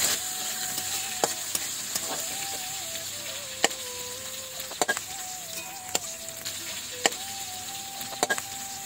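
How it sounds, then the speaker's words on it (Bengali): Ground chilli, ginger and cumin paste fries in oil left from frying prawns, a continuous close sizzle with scattered sharp clicks and taps of a spoon stirring against the pan. "এই তেলের মধ্যেই দিয়ে দেব বেটে রাখা লঙ্কা, আদা জিরে।"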